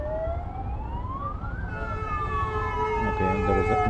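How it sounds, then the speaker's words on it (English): An ambulance siren wails through Bangalore traffic, its rising and falling tone sweeping steadily over a constant roar of road noise and engines, fairly close and loud with no talking. "Okay, there is an ambulance."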